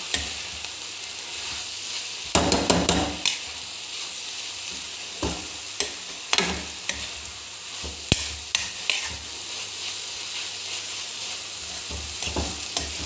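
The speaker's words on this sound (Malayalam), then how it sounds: "ശരിക്കും ഇളക്കണം." Drumstick curry with turmeric being stirred in a pan, a quiet continuous sizzle broken by a series of irregular scraping spoon strokes, close and alone with no talk.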